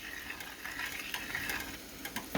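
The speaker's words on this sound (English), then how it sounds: "And stir with your ladle." A ladle stirs through a pot with soft scraping and sizzling, a steady close texture with small clicks and knocks throughout, no talking.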